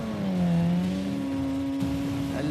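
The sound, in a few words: drag race car engines revving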